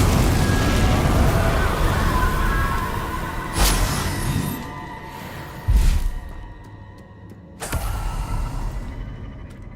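The Confringo blasting spell in Hogwarts Legacy, heard as several booming bursts and crackling impacts over a dense, rumbling backdrop of combat noise.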